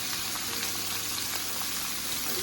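Garlic, shallot, scallion and pepper frying in a pot for a smoked herring and callaloo dish, a soft, even crackling sizzle heard at a distance, with no voices.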